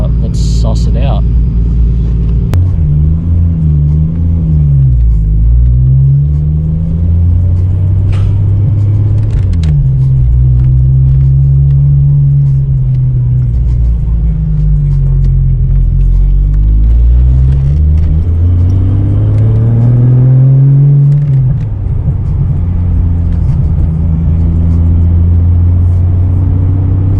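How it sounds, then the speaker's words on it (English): Holden VL Turbo Commodore being driven, its engine droning loudly and steadily with repeated rising and falling revs through the gears, close up inside the cabin for the whole stretch. "So let's take this thing for a drive and let's suss it out."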